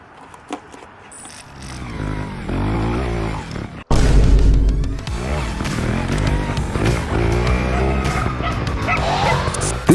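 Dogs bark and yip excitedly at a motorcyclist on a road, loud and close over a running engine, with a sudden louder surge partway through and voices mixed in.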